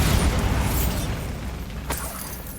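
A Bombarda spell explosion in Hogwarts Legacy, a loud rumbling blast that decays over a couple of seconds, with a sharp crack near the end.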